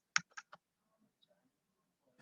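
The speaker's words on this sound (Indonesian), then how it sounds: "Saya mau ngetik bentar ya." A few sharp keyboard clicks in quick succession while typing on a computer, close and distinct, followed by near silence with faint small sounds.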